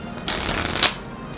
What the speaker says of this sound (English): this shuffle which I'm just about to teach you, it has a little sound effect in the end with that cascade